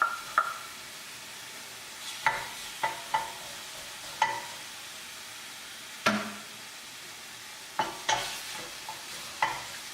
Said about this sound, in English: going to add the pork